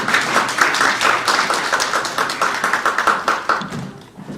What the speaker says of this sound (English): Let's once again give him a big round of applause